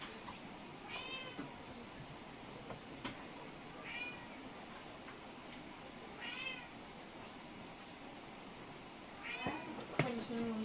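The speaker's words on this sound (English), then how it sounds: "He will silent meow at you." A pet cat meows about four or five times, its clear, rising-and-falling calls spaced a few seconds apart in an indoor room, with soft background noise between them.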